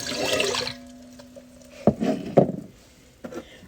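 White vinegar is poured into a pan while mixing a pickling brine for squash, a short liquid splash and trickle at the start followed by a few clinks and knocks of the pan and bottle, close and fairly quiet.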